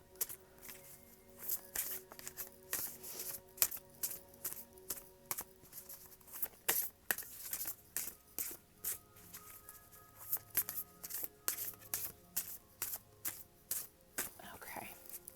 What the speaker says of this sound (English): Spirit of the Animals Oracle deck, which I am currently shuffling